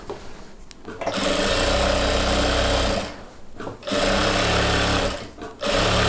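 A sewing machine runs steady seams on the bottom of a chudidhar pant, three sustained whirring runs with brief pauses between them, close and loud.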